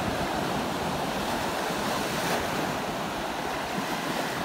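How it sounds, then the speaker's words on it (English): Surf breaking on the beach at Gulf Shores, Alabama, a steady, full roar of waves with wind rushing across the microphone, continuous and loud throughout with no speech. "sound of the surf hitting the beach."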